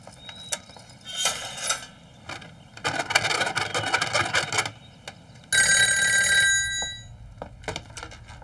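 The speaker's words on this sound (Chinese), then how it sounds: "那你摇个铃给我听听" An old crank telephone bell rings in bursts, rattling metallic trills starting and stopping several times, close and loud, with a longer ring near the end and brief knocks between.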